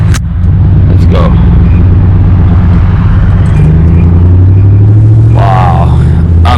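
A Ram 1500 pickup fitted with a Totalflow exhaust pulls away down a street, its loud, deep exhaust rumble droning steadily up close, with a voice briefly heard over it.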